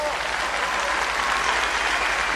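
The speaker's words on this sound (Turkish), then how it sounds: "Onun için de büyük bir alkış istiyorum ben." Broad, dense applause from a concert audience at a symphonic folk-song performance, steady and full throughout with no talking over it.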